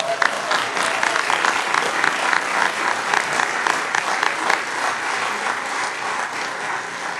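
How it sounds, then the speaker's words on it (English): Brisk, dense applause from a school board meeting audience fills the room, a loud steady patter of many hands that carries on evenly throughout. "we're gonna give a quick round of applause really quick"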